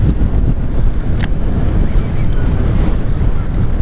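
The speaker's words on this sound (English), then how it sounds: "It's a windy one." Strong wind buffets the microphone in a constant loud rumbling roar while bass fishing, steady throughout with no pauses.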